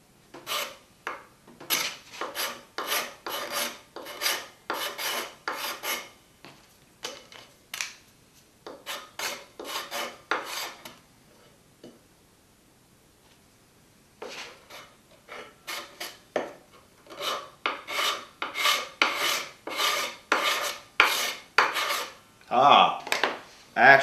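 A card scraper drawn over a cherry wood surface makes crisp, rasping strokes in quick rhythmic runs, close to the microphone, with a quiet pause midway before another series of strokes.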